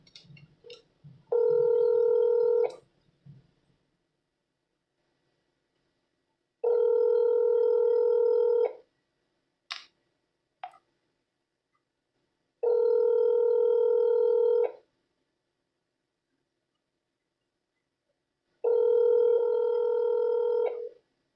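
A telephone ringback tone repeats on a call being forwarded to voicemail, with four evenly spaced two-second electronic tone bursts separated by long silences and a few faint clicks between them.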